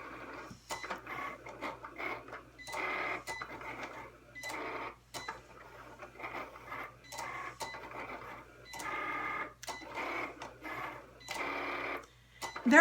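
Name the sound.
Cricut Explore Air cutting machine cutting pink cardstock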